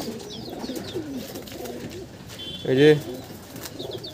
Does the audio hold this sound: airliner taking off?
no